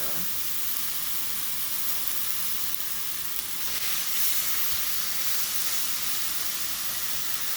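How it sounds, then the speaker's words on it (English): Skirt steak sizzles loudly and steadily on a hot griddle, a dense close hiss of frying with no talk. "Listen to that sizzle."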